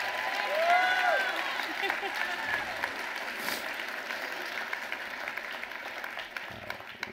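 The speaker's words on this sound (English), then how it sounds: "Give her a round of applause." A keynote audience breaks into sustained applause for a woman being honored, with dense clapping and some faint whoops over the steady roar.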